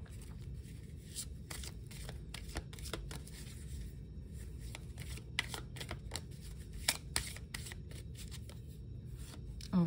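Angel oracle cards are shuffled by hand in quick, uneven riffling bursts with soft slaps and flicks. The shuffling is close and continuous with no talking.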